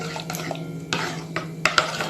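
A spoon stirs salt, onion, garlic and black pepper into pumpkin soup in a pot, with soft scraping and a few sharp clinks of utensil against metal, close and moderately loud, with no talking.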